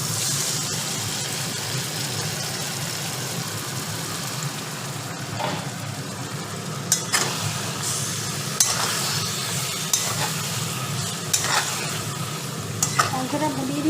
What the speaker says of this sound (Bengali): আমার পেঁয়াজ ভাজা হয়ে গেছে, আলুটাও ওখানে ভেজে রেখেছি, এবার মাংসটাকে দিয়ে দিচ্ছি।